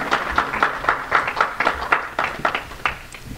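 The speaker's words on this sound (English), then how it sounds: "Give them a round of applause." An audience applauds at a 2015 Harmony closing celebration, a steady run of moderately loud, rhythmic claps that carries on for several seconds.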